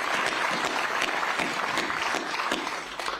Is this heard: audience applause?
yes